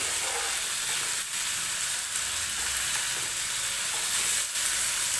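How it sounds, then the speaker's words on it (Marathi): Ripe tomatoes roast in a pan for an onion-tomato chutney, a loud, unbroken close sizzle with a few faint stirring knocks. "व्यवस्थित भाजून घ्यायचे टोमॅटो"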